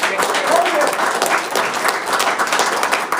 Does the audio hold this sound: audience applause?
yes